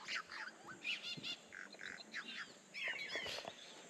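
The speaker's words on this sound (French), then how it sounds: "Ces oiseaux sont juste incroyables." Several birds chirp and trill in quick overlapping calls close by in the Amazon rainforest near Leticia, Colombia, bright and continuous over a soft insect background.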